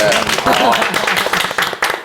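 Studio audience at a Korean real estate talk show clapping on cue, a brisk, dense burst of hand claps lasting about two seconds, loud and close with a voice over it.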